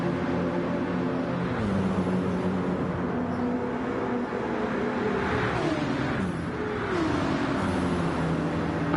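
Lexus and Porsche race cars at the Nürburgring 24h race, engines roaring steadily and loud throughout, with pitch sweeps as they shift and run side by side, no voices.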